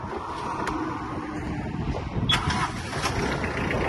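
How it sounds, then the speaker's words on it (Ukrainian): A Mitsubishi MT-246 mini tractor engine running steadily, a low rumbling drone with a slight swell partway through, close and fairly loud with no talk. "Заводиться дуже легко, працює м'яко."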